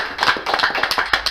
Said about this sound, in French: Yvon Jean, on l'applaudit.